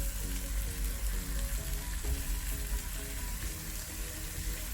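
Chicken sizzles and fries steadily in a pan with ginger garlic paste, a dense continuous crackle with no pauses and no voices.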